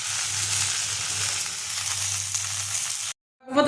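Kharkol leaves dry-stirred in a frying pan give a steady, close, bright scraping sizzle for about three seconds, then a brief silence before the rustle resumes.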